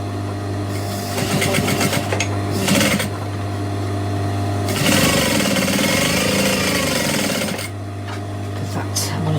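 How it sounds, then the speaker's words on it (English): A sewing machine stitches across the top of a bag in loud bursts of rapid mechanical chatter, separated by short pauses and a low steady motor hum. "I'm just going to stitch across the top of this one as well"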